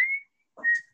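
A man whistles a song melody in two short sustained phrases separated by a brief pause, clear and close with no talking.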